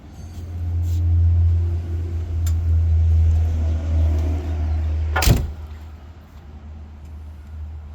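A restored 1958 Ford Fairlane 500 Skyliner retractable with a 312 V8 driving along, a low steady engine rumble from inside the car, with a sharp click partway through.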